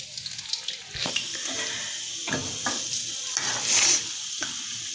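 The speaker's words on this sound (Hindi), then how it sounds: "दूसरी साइड में हल्की आंच पर ही फ्राई कर रही हूँ इसको" Bread pizza pakora frying gently in oil on low heat, a soft continuous sizzle with faint crackles and a few clinks of utensils, close and fairly quiet with no one talking.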